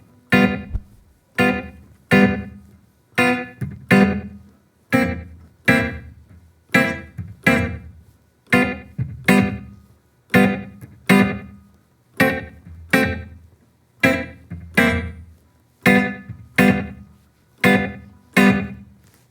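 Guitar playing a 12-bar blues in G with open dominant 7 chords, strummed in steady, evenly spaced bluesy strokes that repeat across the whole passage, heard clearly with no talking.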